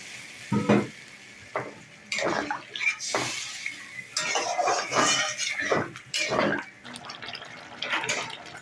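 Fish curry spices being stirred in a frying pan, with a spoon scraping and clinking against the metal in uneven bursts over a steady sizzle.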